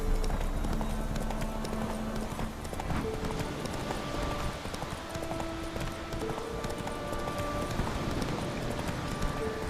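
Rapid rhythmic hoofbeats of Roach the horse galloping in The Witcher 3, a continuous clip-clop drumming over a busy game soundscape with brief voice snippets.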